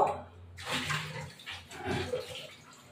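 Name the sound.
washing shrimp with water in a pan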